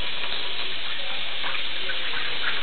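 Water runs steadily from a household tap, a continuous close hiss and splash filling the whole moment without pause.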